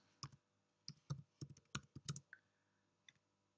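Keys clack on a computer keyboard as a short command is typed, about seven quick distinct clicks in a brief burst followed by a couple of isolated taps, close and quiet.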